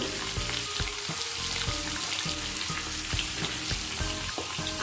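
Potatoes with turmeric and salt frying in a kadai over cumin seeds, a dense, continuous close sizzle with stirring scrapes and crackles throughout, no talking.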